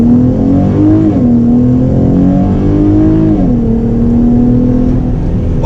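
A 2017 Dodge Challenger fitted with an aFe Momentum GT cold air intake accelerates hard in sport mode with traction control off. Its loud, close engine note climbs steadily in pitch through the gears, with no talking.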